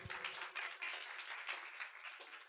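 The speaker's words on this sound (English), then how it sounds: "so a hand of applause if you agree." A short burst of audience applause at a TED-Ed talks event, light clapping from a small crowd that fades after a couple of seconds.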